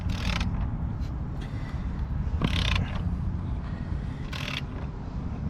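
A ratchet turns an engine bolt on a 2006 Subaru Forester during head gasket work, with a few short clicking bursts over a steady low background hum.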